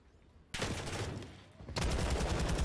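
Gunfire in Call of Duty during a championship match: dense, loud bursts of rapid shots in two sustained volleys, the second heavier than the first.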